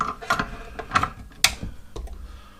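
A wrench works a 13mm nut on a scooter, giving a few sharp metallic clicks and ratcheting ticks in an uneven sequence, close and fairly loud.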